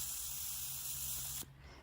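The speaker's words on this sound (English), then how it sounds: "It does make a hissing noise." Rechargeable USB plasma arc candle lighter giving a steady, close electrical hiss with a faint low hum underneath, cutting off abruptly near the end and leaving a quieter residual noise.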